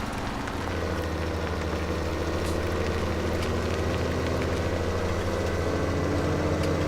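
A Massey tractor engine runs steadily at a low idle, a continuous close rumble with a faint even throb and no talk over it.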